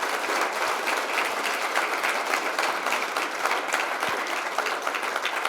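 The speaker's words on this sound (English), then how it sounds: "Another round of applause, please, for Guy Woodcock, who is going to stay." Sustained audience applause at an awards night presentation, steady dense clapping filling the room throughout without pause, with no speech over it.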